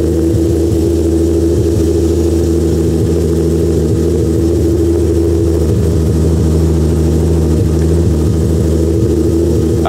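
A loud Volkswagen Golf engine idles on a cold start at over 100 decibels, a deep, steady rumble with slight lumpy pulsing, close and continuous throughout without talking.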